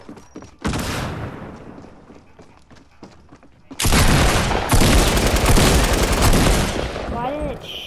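Video game gunfire: a short burst of shots early on, then a loud, dense sustained volley of rapid firing and booms in the second half, close and heavy, with no clear talk.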